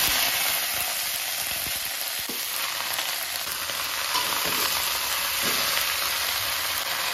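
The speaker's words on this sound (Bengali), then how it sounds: "তেল দিয়ে দিলাম, লাউ শাকগুলো দিয়ে দিচ্ছি।" Steady, loud sizzling of bottle gourd greens frying in hot oil, a continuous crackle with a few soft stirring knocks, no voices.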